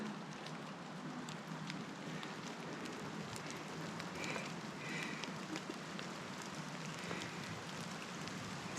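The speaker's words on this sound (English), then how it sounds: "starting to hail." Hail mixed with rain falls on a mountain road on Wheeler Mountain, a steady, dense patter and hiss that stays even throughout, with no voices.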